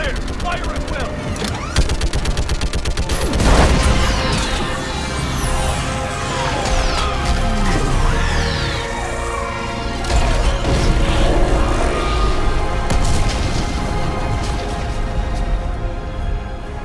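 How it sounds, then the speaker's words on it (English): Orbital strike hammering a Reaper in the Mass Effect 3 video game: loud, continuous barrages of gunfire and crashing impacts with booms, layered under game voices and shouting. "I need an orbital strike. We're clear! Fire at will!"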